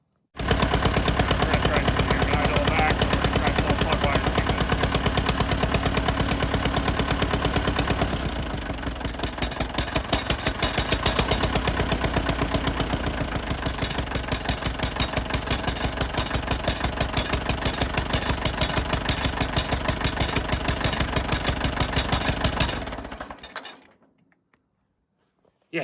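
A 1950 Allis Chalmers B tractor engine runs roughly on only two cylinders, a loud, close, uneven rapid chugging that changes pace partway through, then dies out near the end.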